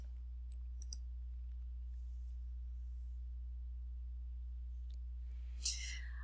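Mouse clicking an on-screen filter button: a couple of sharp, quiet clicks near the start over a steady low electrical hum, followed later by a brief chirpy tone.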